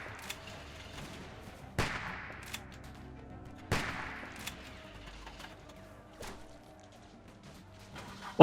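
Gunfire in The Walking Dead video game, with two sharp, loud shots a couple of seconds apart, each trailing into a long echoing decay over a low ambient bed, then a final sudden bang at the end.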